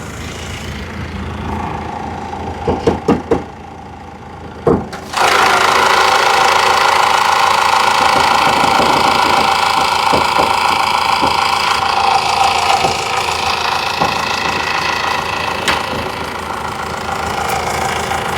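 A Honda Amaze engine runs steadily at close range with a rough, knocking rumble, after a few sharp clicks and knocks at the start.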